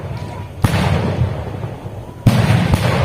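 Cannon blasts fired around a rice field at night in Kampung Talang during Raya celebrations: two heavy booming reports with long rumbling tails, the second followed by a lighter pop, loud and close amid outdoor crowd noise.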